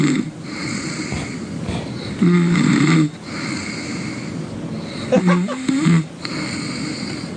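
Two loud, rasping snores come a few seconds apart, close and rhythmic, with a hum of background noise between the breaths.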